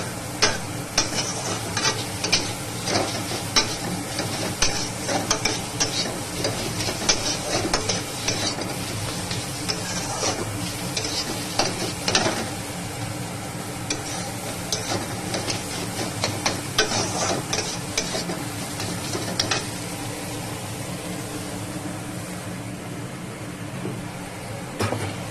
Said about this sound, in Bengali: এবার এটাকে আবার ভালো করে কষাবো, খুব সুন্দর করে কষাতে থাকবে যতক্ষণ না এটা পুরো তেল ছেড়ে দিয়ে আসবে